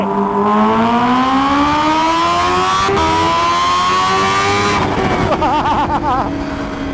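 A 2019 Kawasaki Ninja H2 and a Ducati Panigale V4 R accelerate hard together on a highway in second gear: a loud, close engine howl climbs steadily in pitch, then shifts into a rougher burst near the end, with no talk.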